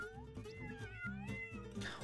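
Several cats in the video game Tasty Planet Back for Seconds meow and caterwaul in quick overlapping cries, fairly faint over a busy game background.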